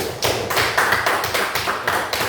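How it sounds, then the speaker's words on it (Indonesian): A group of classmates claps for a fellow student, a short burst of rhythmic, fairly close applause with distinct repeated hand claps and no voices. "berikan aplaus untuk teman kalian"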